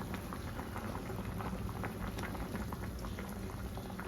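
A thick crab curry bubbles and boils in a pot, with continuous soft popping and gurgling, close and fairly quiet.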